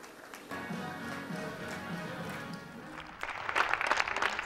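Sustained applause from many people on balconies for health workers, slightly distant and echoing, swelling near the end with sharper, closer clapping.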